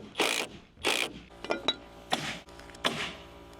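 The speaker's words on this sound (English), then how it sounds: "We're gonna screw these end to end." A power drill drives screws joining wooden framing plates end to end on a house build, with four sharp whirring bursts and some clicks and knocks between them, close and fairly loud.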